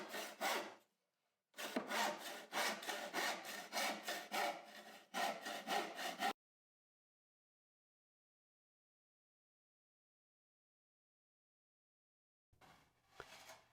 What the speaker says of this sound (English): demonstrating the sawing part using one of his homemade saws